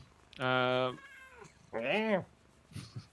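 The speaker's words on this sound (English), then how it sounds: "I thought there was a baby. It's the cat." A cat meows twice up close, a long drawn cry then a rising-falling one, with faint chatter afterward.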